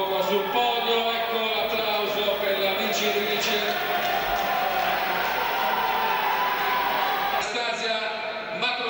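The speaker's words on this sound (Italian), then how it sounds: "Ecco l'applauso per la vincitrice." Arena crowd at a junior European judo championship final in the 78 kg class cheers and applauds the winner, a dense steady roar of clapping and voices with commentary running over it throughout.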